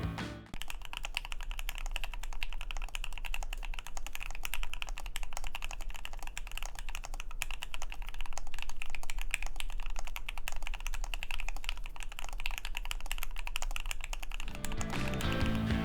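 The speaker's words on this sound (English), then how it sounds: "As for dampening, we're going with polyfill." Steady, continuous typing on a Keychron Q8 mechanical keyboard dampened with polyfill inside, close and dense keystrokes running for about fourteen seconds before stopping.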